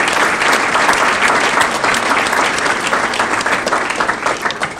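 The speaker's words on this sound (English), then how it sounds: "give a round of applause to all of the people here who've been so important to you in your careers" Loud, sustained applause from an audience at a scholar-athlete recognition awards ceremony, many hands clapping steadily throughout with only slight tapering near the end.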